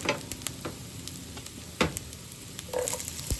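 Onion going into a hot pan during home cooking, with steady frying sizzle, a few sharp utensil clinks and scraping stirs close by, growing a little louder near the end.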